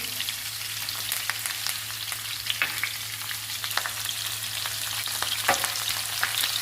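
Onions, green chillies and curry leaves frying in a pan give a steady, close crackling sizzle with scattered pops and occasional stirring scrapes.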